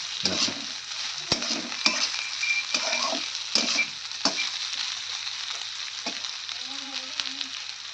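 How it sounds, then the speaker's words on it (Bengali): Bitter gourd fries in a pan with a soft, steady sizzle. Sharp clinks and scrapes from a utensil stirring it come every second or so, and a faint voice sounds briefly near the end. "উস্তিটা কিন্তু আমার ভাজা হয়ে গেছে।"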